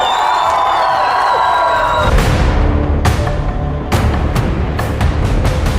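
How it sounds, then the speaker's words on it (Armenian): Wedding guests from the groom's side clapping and cheering loudly in a hall in Ashtarak, dense close applause with sharp bursts and whoops after a brief tonal lead-in. "Փեսայի կողմի հզոր ծափերը։"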